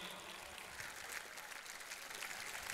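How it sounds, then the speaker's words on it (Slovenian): An audience at a street protest for Slovenia claps steadily throughout, a dense, even applause with no single voice standing out. "Lahko jih nagradite z enim aplavzom."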